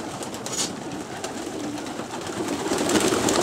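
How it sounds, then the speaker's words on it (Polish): Pigeons coo continuously in their loft at morning feeding time before release, a soft layered murmur of many birds close by, steady throughout. "Gołębie zawsze przed wypuszczeniem rano są najpierw karmione."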